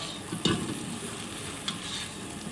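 An egg frying in oil in a pan while making mixed fried rice, a soft steady sizzle close by, with a couple of brief scraping knocks as a utensil turns it.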